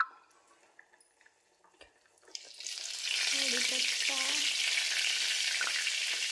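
Oil sizzling in a pan while making Konkan-style mackerel curry: quiet clinks and faint room sounds at first, then a loud, dense frying hiss bursts in about halfway and continues steadily, close by, with a few short utensil or voice-like tones over it.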